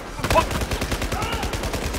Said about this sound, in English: Somebody's shooting over here.